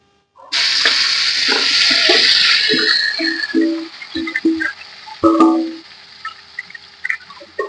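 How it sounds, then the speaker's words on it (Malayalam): Marinated chicken dropped into hot oil sets off a sudden loud sizzle that fades after a few seconds into quieter frying, broken by short scraping and clinking stirs. "ആ എണ്ണയിൽ തന്നെയാണ് നമ്മൾ ഏകദേശം ഒരു ഒന്നര മണിക്കൂറോളം ആയി നമ്മൾ ചിക്കൻ പെരട്ടി വെച്ചിട്ട് ആ ചിക്കൻ അതിലേക്ക് ഇടുകയാണ്"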